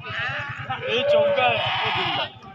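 Goats at a livestock market bleat in a wavering, drawn-out cry lasting about two seconds, close and loud, with rhythmic background noise underneath.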